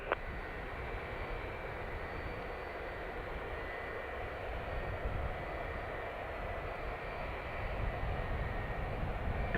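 A Ryanair jet on takeoff from runway 28 right at Dublin Airport gives a steady, broadband engine roar that holds loud and unbroken throughout, with no voices over it.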